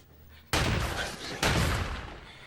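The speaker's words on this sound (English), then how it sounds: "Was that a fucking BB gun?" Two sharp, loud gunshot blasts in a crime-caper movie scene, one at the start and a second about a second later, each followed by a dense ringing wash that fills the clip.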